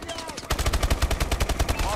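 Rapid automatic gunfire from the video game Call of Duty: Advanced Warfare, a steady burst of evenly spaced loud shots starting after a brief quieter moment and continuing to the end.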